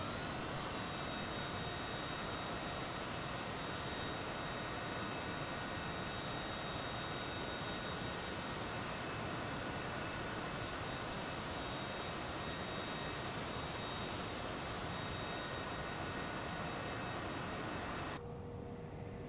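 Steady roaring jet engine noise from a Cessna Citation CJ4 taking off in Microsoft Flight Simulator, loud and continuous broadband rush with a faint high whine, cutting off abruptly at the end.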